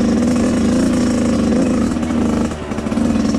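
A Suzuki RM 85 two-stroke dirt bike engine revs loudly and steadily up close, its buzzing drone holding throughout with a brief dip near the end.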